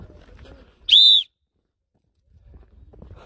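A whistle blown once in a strong, steady blast lasting about a third of a second, loud and close, on a mountain hike, between stretches of quiet outdoor background.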